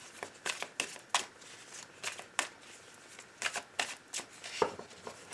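A deck of tarot cards is shuffled and cut, giving a series of sharp, close riffling snaps and flutters in irregular bursts, with no talking.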